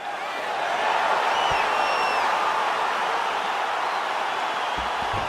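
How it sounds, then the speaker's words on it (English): Crowd at a fight in the UFC 4 video game: a broad, steady roar rises quickly and holds at a loud level, with faint whistles through it. "crowd getting excited as this fight gets underway"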